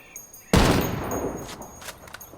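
Unsuppressed gunfire in the Ghost Recon video game: one loud, sharp shot bursts out after a short quiet, then a long rumbling tail decays with a few fainter crackles and pops.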